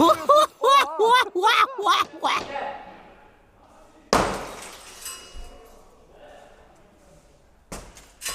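A vehicle window glass is struck hard and bursts, giving a sharp crash at about four seconds followed by a fading crackle of breaking glass, another brief impact near the end, and voices talking before it.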